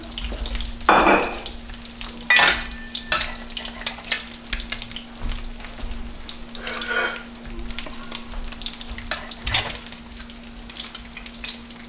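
Lacy eggs sizzle and crackle in a frying pan, a steady close-up fry with occasional louder spatters and scraping stirs.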